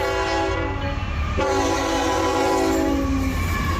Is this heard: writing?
no